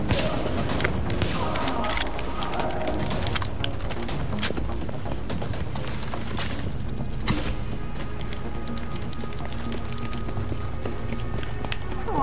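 Gunfire in The Division at a Hudson refugee camp, dense rapid bursts of shots running almost continuously through a busy, loud game mix with footstep-like clatter.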